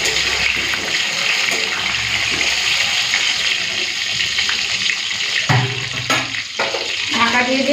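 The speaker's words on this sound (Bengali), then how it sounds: "আলুটাকে একটুখানি ভেজে" Potatoes fry in hot oil in a home kitchen, giving a steady sizzle that runs the whole time, broken near the end by a few stirring and clattering sounds.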